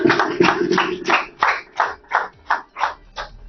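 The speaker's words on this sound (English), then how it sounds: "A round of applause, everybody." Classroom applause from a group of schoolchildren, rhythmic clapping in steady repeated bursts that thin to evenly spaced unison claps, close and fairly loud, without talking.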